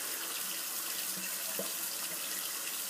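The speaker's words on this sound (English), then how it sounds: "I'm just going to rinse off the soap tub here and set it down." Tap water runs steadily into a sink while a shaving soap tub is rinsed, a soft continuous splashing hiss at low volume with no talk.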